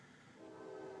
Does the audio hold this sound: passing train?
yes